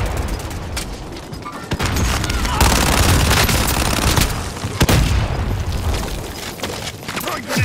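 Dense, loud gunfire from a Call of Duty: Modern Warfare battle royale match, with sustained bursts and heavy booming shots that pound almost continuously and briefly ease near the end.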